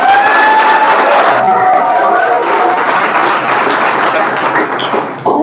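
Audience applause fills a hall at a felicitation gathering for police recruitment results, a dense, steady wash of clapping with crowd noise that stays loud throughout and tapers slightly near the end.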